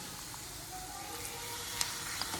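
Chicken pieces sizzle in a hot pan for curry, a soft, continuous frying hiss with a couple of faint clinks near the end.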